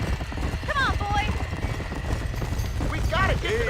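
Horse hooves clip-clop at a run in the Red Dead Redemption video game amid a burning-barn scene, the steady thudding heard under shouting voices and whinny-like cries.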